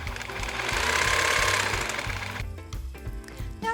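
A sewing machine runs steadily for about two and a half seconds while stitching a doll's dress bodice from the sleeve to the bodice edge, then stops, leaving quieter handling sounds.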